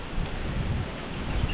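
Strong wind buffets the microphone outdoors near water, a loud low rumbling roar with gusty surges, continuous and close for the whole moment.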